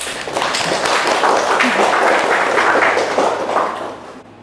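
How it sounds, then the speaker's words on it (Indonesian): Audience in a university teaching session claps together in a dense, continuous burst of applause that holds steady, then tapers off near the end. "Tepuk tangan untuk Mbak Ninis"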